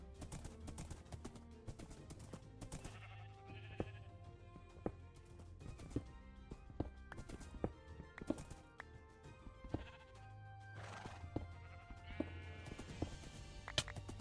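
Rhythmic hoofbeats of horses in Minecraft clip-clop steadily over game music, with occasional bleating and whinnying animal calls scattered throughout.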